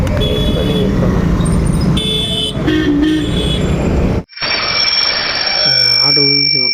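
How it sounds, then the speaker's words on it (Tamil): A loud, sustained electronic alert tone from the Swiggy delivery app signalling a new order, ringing out after busy traffic and bike noise cut away, with someone talking around it. "ஆர்டர் உங்களுக்கு சவுண்டு கேட்குதா?"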